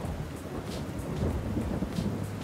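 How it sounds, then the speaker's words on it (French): Low, steady rumble of thunder rolling over continuous rain, loud and close throughout with no voices. "Quand l'orage gronde, il gronde trop fort."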